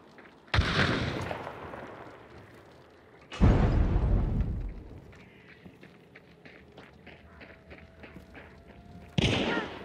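Three sharp, heavy gunshots crack out in the video game Hunt: Showdown, each followed by a lingering rumbling echo, spaced several seconds apart over quiet ambient noise.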